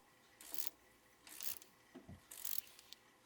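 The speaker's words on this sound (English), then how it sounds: "Tighten the pulley to pull the hub." Ratcheting clicks and mechanical creaks come in short bursts as a puller is tightened to pull the hub off a car AC compressor, close and fairly quiet with no talk.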